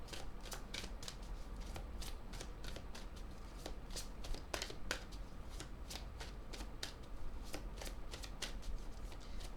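Oracle cards being shuffled by hand, a steady run of soft papery riffles and flicks repeating through the whole stretch at close range, with no voices.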